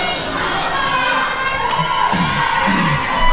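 Wrestling event crowd cheering and shouting in an indoor venue, a steady wash of voices with occasional louder whoops, heard at a moderate distance.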